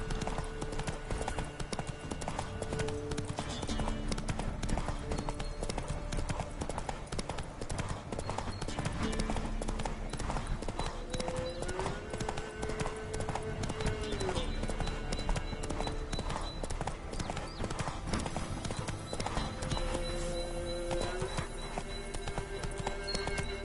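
Roach galloping in The Witcher 3, a continuous fast hoofbeat rhythm lasting throughout, loud and close, layered with game music and ambience.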